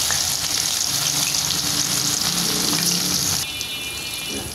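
Bitter gourd frying in hot oil alongside potatoes, a continuous close sizzle that drops a little in level near the end, with no voices.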